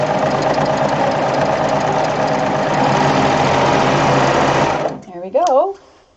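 A serger sewing machine stitches a decorative flatlock seam and trims the seam allowance, running at a loud, steady mechanical whir for about five seconds before stopping abruptly, after which a person speaks briefly.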